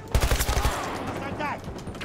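ACW rifle firing from the hip in Battlefield 2042, a fast burst of close, punchy gunshots at the start that trails off into game ambience, with a voice talking over it.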